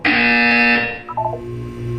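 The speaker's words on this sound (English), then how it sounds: "You will hear a buzzer." A loud electronic buzzer tone from the video game Portal 2 sounds for under a second, followed by a short series of lower beeps and a faint hum.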